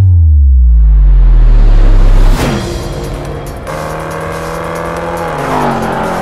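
A Range Rover Sport SVR at the Nürburgring roars loudly, its engine note sweeping down as the SUV passes close by, then settling into a steady, more distant drone with rising and falling harmonics.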